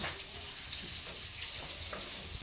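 Water runs steadily while clothes are washed, a continuous faint splashing hiss with soft sloshing, heard alone without talk.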